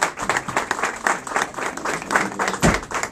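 Quiet, uneven clapping rises from an audience welcoming a councilman named Quintana at a political gathering, a sparse round of handclaps without speech.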